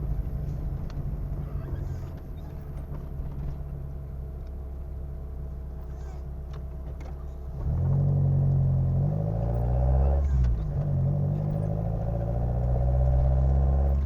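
Opel Kadett GS engine with a Solex C40 ADDHE carburetor running on ethanol while driving, a loud steady low rumble that drops briefly, then swells stronger with rising and falling engine tones as gears change.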